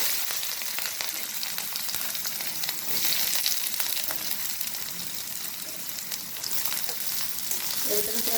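Onions sizzle steadily in hot oil with dry red chili, cumin and mustard seeds, a dense close frying hiss with occasional stirring scrapes, no voices.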